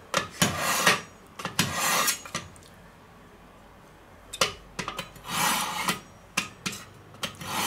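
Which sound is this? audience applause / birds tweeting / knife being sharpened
knife being sharpened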